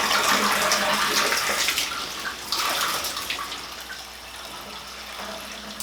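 Hot water running and dripping in a tub after watering houseplants, a steady splashing rush that thins out and quietens over the last seconds, with no talk.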